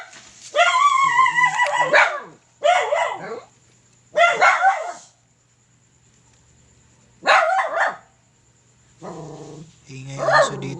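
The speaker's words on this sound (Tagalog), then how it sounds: "Ingay ang aso dito" A dog barks and yelps in several loud bursts close by, with quiet pauses between them.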